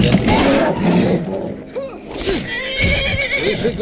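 A horse in the Skyrim video game neighs loudly, with several wavering whinnies and snorts in quick succession close up, backed by faint hoof clatter and other game noise.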